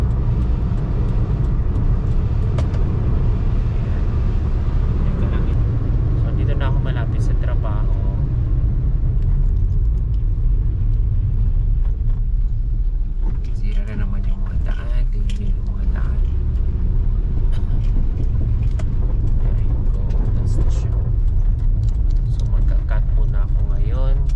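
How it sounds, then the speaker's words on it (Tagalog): Road traffic in Ghana rumbles continuously with engine drone and passing vehicles, heard from inside a car during a drive to a bank, with someone talking over it much of the time. "Ayan, masyadong ma-traffic."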